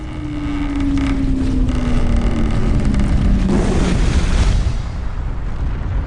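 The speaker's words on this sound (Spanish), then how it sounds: "La montaña gigante empieza a escupir cenizas volcánicas al rojo vivo." A giant volcanic mountain on an island erupts and spews red-hot ash, heard as a loud, steady, wind-like roar that swells a little in the middle and carries on for several seconds with no voices.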